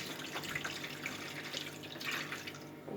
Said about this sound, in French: Voilà, vous mettez de l'eau.